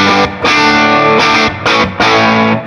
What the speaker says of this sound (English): That's a little of the amp reverb.